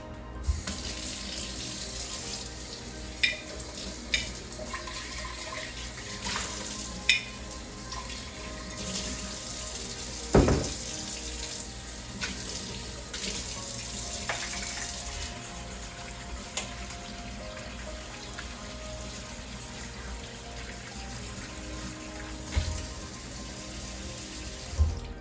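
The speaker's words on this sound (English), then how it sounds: "I'm gonna rinse this, get the cherries, and rinse this, get the cherries back in" A kitchen tap runs steadily while cherries are rinsed in a sink, with a continuous water hiss and a few brief clinks and knocks scattered through it. No one speaks.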